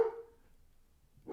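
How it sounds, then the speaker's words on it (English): A dog barks from downstairs in a house, two brief muffled barks heard at a distance, one at the start and one at the end, separated by near silence. "because my dog is barking downstairs"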